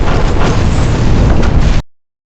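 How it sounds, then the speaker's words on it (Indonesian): A loud, sustained roaring blast fills the space with dense rumbling noise, then cuts off abruptly into silence. "rumah itu meledak dalam ledakan besar"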